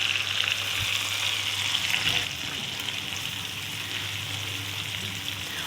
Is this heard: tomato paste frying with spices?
yes